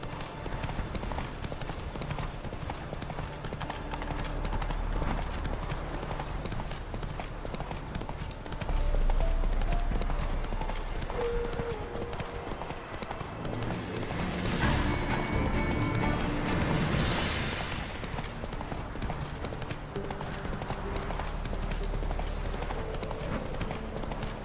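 Horse Roach's hooves clip-clop in a steady galloping rhythm over game music and ambience, with a brief neigh and occasional background speech.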